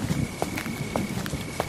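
Two people walking slowly side by side: soft, evenly spaced footfalls, fairly faint over a low rustling background, about a step every half second.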